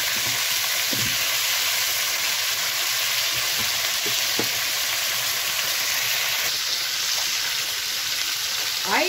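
Pork intestines fry steadily in a pan with fresh onion and garlic, giving a loud, continuous sizzle and crackle with a few stir scrapes, heard alone without talk.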